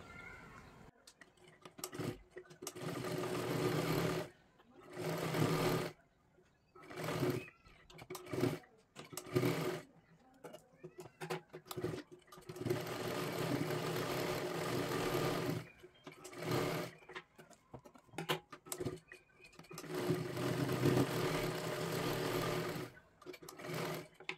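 A sewing machine stitches a Marathi-style katori blouse in repeated bursts of loud, close running, stopping and starting with short pauses between seams.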